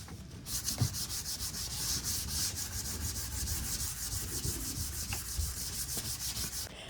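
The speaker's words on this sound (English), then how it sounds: "So we're scuff sanding this whole piece with this sandpaper" Constant rasping of 120-grit sandpaper scuff sanding a wooden nightstand back and forth, close up and steady, with a few faint knocks underneath.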